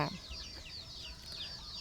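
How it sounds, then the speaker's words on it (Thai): Chickens cluck and chatter in a low, steady murmur outdoors, with a brief rustle at the start. "ไก่ของลุงมนก็อยู่ตาม ร่มไม้นะคะ"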